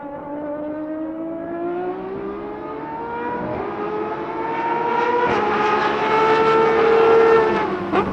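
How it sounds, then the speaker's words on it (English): A high-revving V12 engine climbs steadily in pitch as a Lamborghini Essenza SCV12 accelerates hard on a track, growing louder and then briefly dropping off at the end. "the car comes alive, powering out of corners much more aggressively and spinning up the rear wheels"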